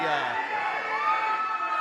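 In a crowd at a FEST Wrestling championship match, a young woman yells out, her voice cutting above the general crowd din, with a commentator talking over it.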